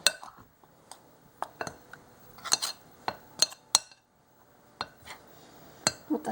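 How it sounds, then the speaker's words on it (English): Homemade bread dough being stirred in a bowl, heard as a series of sharp clinks and taps of a utensil against the bowl, irregular and close, with quiet gaps between strikes. "Now we're just mixing it up"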